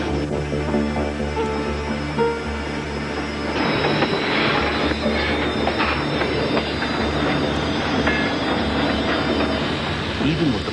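A Conrail freight train with a wide snow plow on its front rolls along the tracks, a loud continuous rumble of wheels and wagons with squealing steel and clickety-clack growing rougher partway through.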